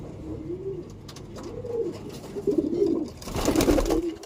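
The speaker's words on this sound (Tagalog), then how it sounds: "Gandang ibon, solid yan." A pigeon coos repeatedly close by, soft rounded low calls in a steady rhythm, with a brief burst of rustling or flapping near the end.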